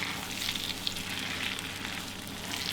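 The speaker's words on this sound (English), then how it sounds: "these marshmallows are just going to melt" Half a stick of butter and twenty large marshmallows melt in a pan on the stove, giving a soft, steady sizzle and faint crackle close by with no talking.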